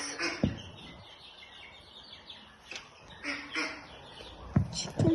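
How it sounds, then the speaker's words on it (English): Farmyard birds, chickens and ducks, at a garden farm, calling in scattered short bursts at moderate distance over quiet outdoor background. "I saw some chickens and ducks."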